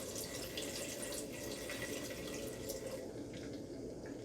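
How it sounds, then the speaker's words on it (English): Chicken broth pours into a pan for shrimp scampi, a soft, steady liquid trickle and splash, fairly quiet, with no talking. "So it's chicken broth it is, y'all. And we're just going to pour a little bit in there."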